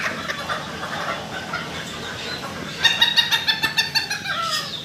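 A large fancy rooster kept in a cage at a farm gives a burst of sharp, rhythmic calls late on, fairly close over low background noise.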